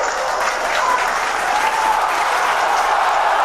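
Steady applause from a crowd fills the whole stretch at an even, sustained level, with dense overlapping clapping and no speech on top.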